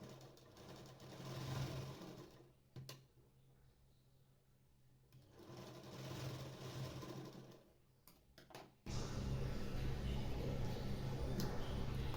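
A sewing machine stitches a frilled bell sleeve on a blouse, producing faint, intermittent runs of whirring that swell and pause, ending in a louder continuous run.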